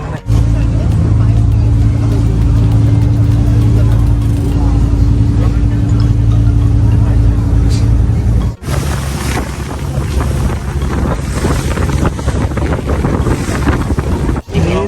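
A large passenger ferry crossing to Koh Larn island off Pattaya, its engine a steady loud low drone with wind buffeting the microphone, the tone shifting after a brief dropout near the middle.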